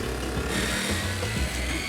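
A power tool cuts up a couch during a home makeover, a loud, continuous buzzing and grinding with rough, uneven bites into the material and no speech.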